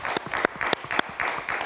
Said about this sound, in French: c'est un peu tubard les applaudissements